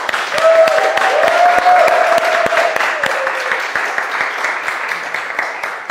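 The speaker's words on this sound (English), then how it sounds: "give a good round of applause to the team that has made this madness happen" An audience at a talk on port wine gives a round of applause, loud steady clapping from a crowd in a room that gradually thins out toward the end.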